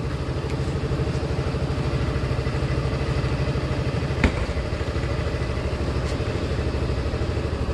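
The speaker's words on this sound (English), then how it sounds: "the motorcycle has started using my code." A Honda Forza scooter's engine idles at a steady, even putter just after starting, close and constant, with one sharp click partway through.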